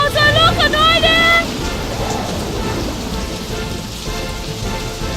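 Heavy rain in a cartoon retelling of Noah's flood, a steady hissing downpour with low thunder-like rumble, opening under a sung or tonal voice that fades away and leaves the rain alone.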